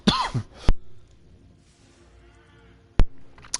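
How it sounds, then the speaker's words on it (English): A man with a cold coughs in short, harsh bursts: a cluster at the start, then single loud coughs near the end, with quiet game background between. "I really do apologize for all the coughing tonight, too."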